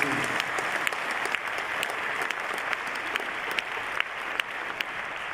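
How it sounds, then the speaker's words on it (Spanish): Conference audience applauding at a COP climate summit session, a sustained, fairly loud burst of many hands clapping with a few sharper individual claps standing out, no speech over it. "pido un gran aplauso para Chile en la organización de la COP"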